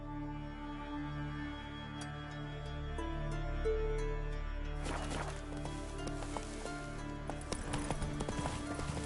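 A horse gallops in the video game The Witcher 3: Wild Hunt, with rapid, rhythmic hoofbeats pounding continuously over a sustained musical score, growing busier and more clattering toward the end.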